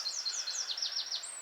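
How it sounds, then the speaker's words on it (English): Several small birds sing in woodland on an exposed, windy hilltop, their bright repeated chirps and short descending trills rising over a steady rush of strong gusting wind. "Surrounded by nature, the birds,"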